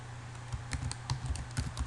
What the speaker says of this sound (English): Type in the description